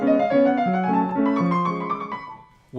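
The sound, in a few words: piano fast notes played unclearly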